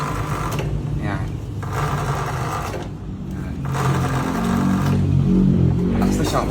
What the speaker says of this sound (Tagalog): tapos okay yung free wheel niya